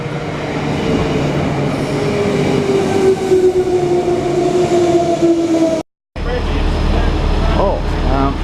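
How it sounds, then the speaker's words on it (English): A suburban passenger train departing Bundamba Railway Station toward Darra rumbles loudly from inside the carriage, with drawn-out wheel squeals and a brief cut before the rolling noise resumes; voices are heard talking over the ride. "Taking this train to Darra"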